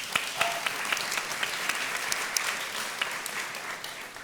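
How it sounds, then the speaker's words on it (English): An audience claps at a sustainable seafood panel discussion at a SXSW food event, a steady, fairly loud mass of clapping with a few sharper individual claps standing out, and no talking. "Round of applause, everyone."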